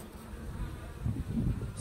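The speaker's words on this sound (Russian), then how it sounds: "Ну и пчелки вот летят и летят." Bees fly over a vegetable garden, gathering nectar, giving a steady, fairly faint low buzz with no voices over it.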